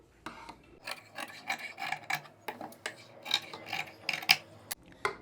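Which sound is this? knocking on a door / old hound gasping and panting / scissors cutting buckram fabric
scissors cutting buckram fabric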